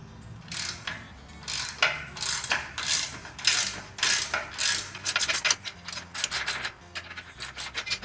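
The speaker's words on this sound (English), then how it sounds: "Remove the winch stand." A ratchet wrench clicks in quick repeated bursts while removing a winch stand from a boat trailer, close and fairly loud, with rapid pawl chatter interrupted by brief pauses between strokes.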